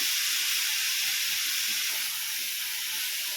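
Tomatoes sautéing in a pan for a cabbage-leaf curry, giving a steady, loud, close hiss and sizzle that holds evenly throughout with no talking.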